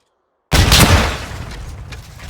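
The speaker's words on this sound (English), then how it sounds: "moving on to a comparison of the vehicle's explosion" A truck blows up in the video game Modern Warfare 2: a sudden loud blast after half a second of silence, followed by a rumbling, crackling decay with a few small pops.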